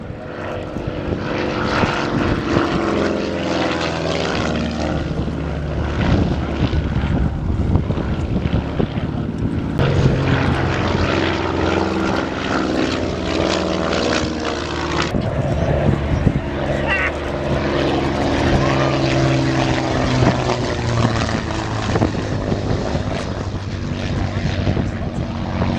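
A propeller aircraft painted in 15 Squadron markings flies at full power and high speed at the Old Warden airshow, giving a loud, continuous engine drone that fills the whole stretch.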